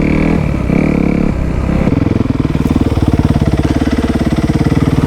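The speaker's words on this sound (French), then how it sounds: "Une fois que votre moto elle est un petit peu plus chaude, et bien vous allez pouvoir monter un petit peu plus dans les régimes" A used dirt bike engine warms up, first a rough uneven run, then a steady rapid pulsing idle that stays loud and close, with no talk over it.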